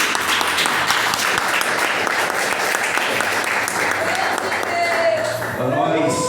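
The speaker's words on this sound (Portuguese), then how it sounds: "Dá uma salva de palmas para o Senhor." A church congregation claps loudly and continuously for the Lord during a Portuguese-language service, with voices and a few shouts mixed into the dense clapping throughout.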